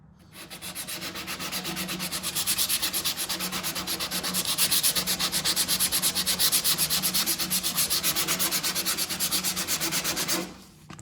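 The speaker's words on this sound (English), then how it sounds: "all you do is you grab some 80 grit" A sharp painted edge is hand sanded with 80 grit sandpaper in steady, rapid back-and-forth rasping strokes, close and continuous for about ten seconds with no talk.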